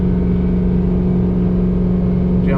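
Ford F350 truck with a 6.0 diesel engine straining hard under load, a steady low droning roar with strong humming tone, heard close and continuous without talk.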